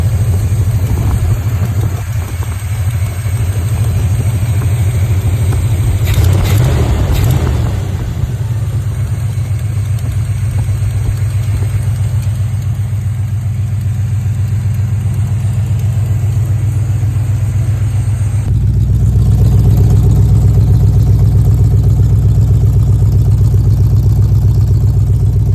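An old station wagon engine idling with a leaking exhaust manifold, a loud steady low rumble with a brief burst of sharper noise early on and a shift in tone late in the idle, no speech.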